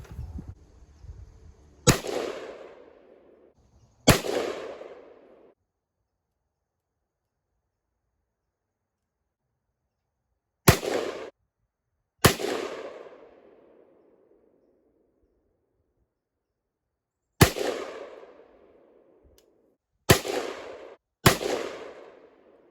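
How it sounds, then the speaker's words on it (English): A budget Delta Team Tactical AR-15 rifle fires seven loud, sharp shots at irregular intervals, each crack followed by a ringing outdoor tail and then silence. "Let's take our first shot."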